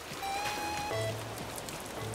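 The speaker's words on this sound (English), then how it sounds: "The rain is loud, is it?" Rain pattering steadily in the video game Animal Crossing: New Horizons, a constant soft hiss of drops beneath gentle melodic notes, with no one speaking.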